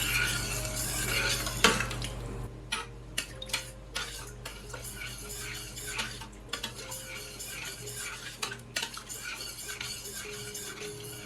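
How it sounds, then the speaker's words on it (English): A spoon or utensil stirs ingredients and diced tomatoes together in a pan on a stovetop burner, giving quiet, irregular scrapes and clinks against the metal over a faint background hum, with no voices. "And now we're just going to stir everything together, get everything mixed really well."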